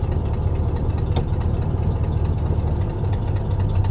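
A Ford Ranger with a 302 5.0 V8 idling, a loud steady low rumble with an even, unchanging throb and one brief sharp click partway through.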